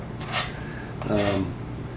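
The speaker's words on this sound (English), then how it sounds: "You guys might recognize that. That's a Spyderco Sharpmaker." Two short abrasive strokes of a Spyderco Police serrated knife drawn across the ceramic rods of a Spyderco Sharpmaker, each a close, dry rasping scrape of about a quarter second with a quiet pause between them.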